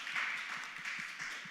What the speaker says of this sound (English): let's give our candidates a nice round of applause